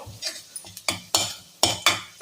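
Metal spoon scraping and knocking against a pan as chopped garlic cloves are stirred, about six sharp clinks and scrapes at uneven intervals over a soft frying hiss.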